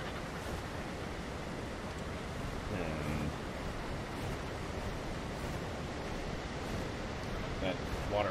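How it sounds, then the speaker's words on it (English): A loud video-game waterfall in ARK Genesis 2, a constant broadband rush of falling water filling the whole scene, with a faint voice briefly audible beneath it. "Waterfall is loud as flip."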